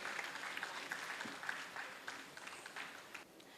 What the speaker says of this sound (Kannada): ಅವರಿಗೂ ಕೂಡ ಒಂದು ಚಪ್ಪಾಳೆ ಕೊಡಬೇಕು ಈ ಚಿಕ್ಕ ಚಿಕ್ಕ ಮಕ್ಕಳನ್ನು ಟ್ರೈನ್ ಮಾಡಿದ್ದಕ್ಕಾಗಿ.